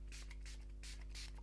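Guitar polish is sprayed onto a classical guitar in about four short, close hissing bursts with brief gaps between them, and no one speaks.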